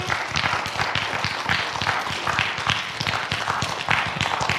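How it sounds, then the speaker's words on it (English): Steady applause from an audience at an author's presentation, dense clapping that carries on evenly throughout, fairly loud with no pauses. "Let's give her a round of applause for coming."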